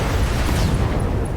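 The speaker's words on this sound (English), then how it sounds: "Ammo explosion." A loud, rumbling burst of an ammunition explosion in the BattleTech mech combat game, a dense low boom that rolls on through the whole stretch with crackling debris above it.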